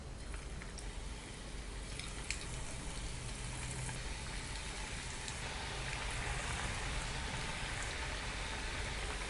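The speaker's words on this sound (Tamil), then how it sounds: "இது மாதிரி ட்ரையாங்கிள் ஷேப்பில் நீங்கள் கட் பண்ணி வச்சுட்டு அப்படியே டீப் ஃப்ரை பண்ணிக்கலாம்" Triangle-cut nacho pieces deep frying in a small amount of oil, a dense, steady sizzling crackle with faint pops, continuous and close.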